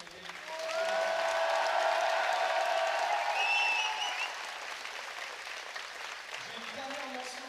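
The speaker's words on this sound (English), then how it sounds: "un tonnerre d'applaudissements pour tous les bénévoles qui ont aidé" An audience gives the volunteers a loud round of applause that peaks early and then eases off, with voices and cheers mixed in over the clapping.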